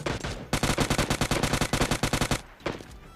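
Rapid automatic gunfire from a G36C rifle in the mobile battle-royale game PUBG Lite, a dense burst of about two seconds of loud, closely spaced shots, then a short trailing shot after a brief gap, with no talking.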